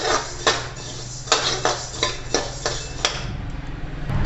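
Fenugreek seeds roasting in a pan while being stirred, with a metal spoon scraping and clanking against the pan in about eight sharp, irregular strikes over a low steady background hum.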